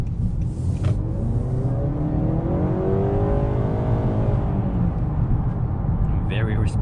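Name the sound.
2021 Honda Accord Hybrid car accelerating while driving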